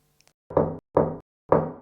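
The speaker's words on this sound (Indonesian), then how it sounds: "Saya mendengar ada 3 ketukan." Three firm knocks on a door, evenly spaced and close, with brief silence between them.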